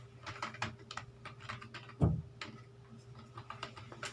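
Keystrokes on a computer keyboard while a spreadsheet table is being typed, a steady run of quiet, close clicks with one heavier key thump midway, over a low electrical hum.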